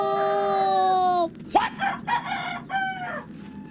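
A rooster crows at dawn in one long, loud, drawn-out call that breaks off abruptly, followed by a few shorter, choppier crowing bursts close by.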